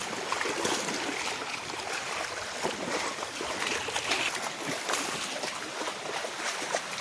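Floodwater flowing through farm fields makes a steady, even rushing wash of moving water that carries on unbroken at moderate volume.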